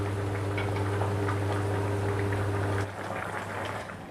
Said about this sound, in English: My gravy has been cooking away for 3 minutes now